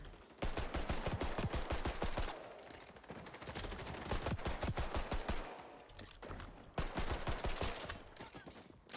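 Loud rapid-fire gunfire in the online shooter XDefiant, dense bursts of automatic shots that rattle on almost without pause, broken by a couple of short gaps.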